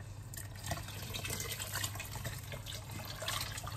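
Water poured into a pot of chorba soup, a soft, continuous liquid splashing and gurgling pour, quiet and close.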